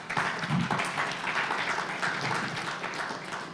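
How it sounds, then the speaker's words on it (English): A conference audience applauds panelists at a U.S.–Kenya critical supply chains event, with moderately loud, continuous clapping lasting a few seconds and no voices over it. "And a round of applause as we appreciate the panelists."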